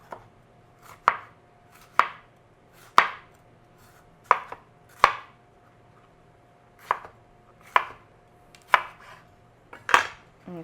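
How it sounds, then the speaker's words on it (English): A kitchen knife slices yellow and red bell peppers into strips on a cutting board, with separate crisp cuts that each end in a sharp knock, about one per second with short gaps, close and clear over a faint steady hum. "I'm going to cut them in strips first"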